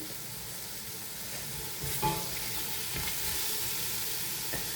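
Tomatoes sautéing in a pan for mutton biryani, a steady soft sizzle with occasional louder stirring scrapes partway through, no voices.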